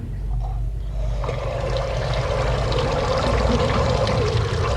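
Mineral water runs straight from a spring in a continuous, close pouring gush, loud and steady, with a low hum beneath it and a brief clatter near the start.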